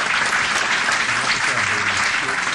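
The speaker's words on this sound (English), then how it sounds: "Give these boys a good round of applause" Steady audience applause for a lacrosse team at a city council meeting, dense and continuous clapping throughout with faint voices murmuring underneath.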